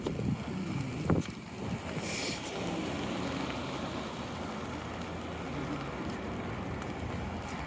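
Wind blowing across the microphone while walking through a public garden, steady buffeting rumble that persists throughout, with a couple of brief knocks early on.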